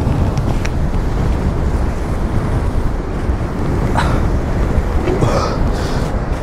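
Strong wind roars continuously against the microphone on a hiking spot near Cape Town, loud and close, with a steady broadband rush and no speech.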